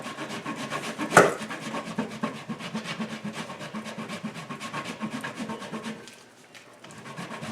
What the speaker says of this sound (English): let me just finish grating this up